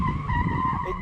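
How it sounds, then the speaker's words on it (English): A Mercedes-AMG A45 in drift mode slides with a loud, continuous tire squeal over the engine's roar, sustained throughout without a break. "It definitely drifts."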